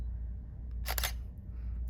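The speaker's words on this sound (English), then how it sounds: "hold down my shutter button halfway, let it beep, and then take a photo" A single-lens reflex camera fires its shutter once, a crisp mechanical click-clack close to the microphone in an otherwise quiet room.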